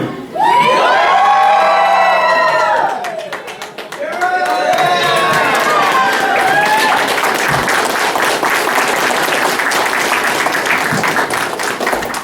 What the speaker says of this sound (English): Yell so they come in.